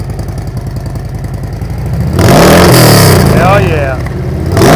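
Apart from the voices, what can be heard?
motorcycle engine revving in gear, Tab Performance Redline Series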